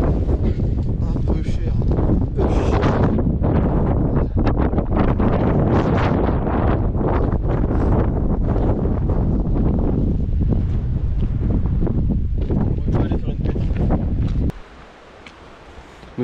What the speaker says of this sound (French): Vous avez le vent qu'il y a.